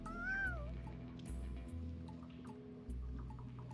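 A character's voice imitates a cat, giving a rising and falling meow over low ambient game music in the video game Deponia 3.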